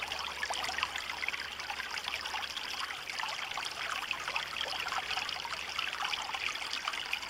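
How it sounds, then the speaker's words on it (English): Creek water rippling and splashing over stony rapids outdoors, a steady continuous babble of moving water with no voices, close and moderately loud throughout. "I want you to hear the rippling of the water."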